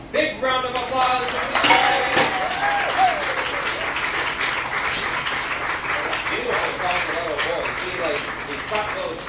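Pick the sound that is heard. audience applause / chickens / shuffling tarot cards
audience applause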